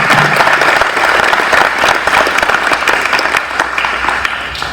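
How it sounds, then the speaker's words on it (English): Awards ceremony audience giving a sustained, dense round of applause, loud and steady throughout with a slight tapering at the end. "Let's give John a round of applause"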